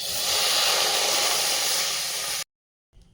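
Water poured into a hot wok on a lit stove bursts into a loud, steady steam hiss that lasts about two seconds, cuts off abruptly, and leaves a faint rustle afterward.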